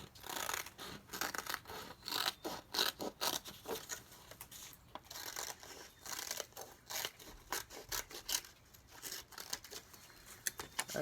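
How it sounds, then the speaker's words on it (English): Scissors snip and rustle through paper while pieces are cut out, a steady run of close, crisp cuts and crinkles with short pauses, no talking. "And I'm going to cut out my last pieces."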